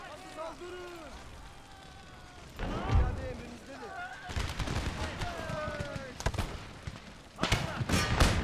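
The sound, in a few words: musket gunfire in the video game Empire Total War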